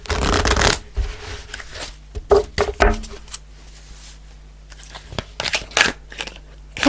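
Tarot and fairy cards being shuffled by hand, crisp riffling bursts in several separate bouts with pauses between, close and fairly loud, no talking.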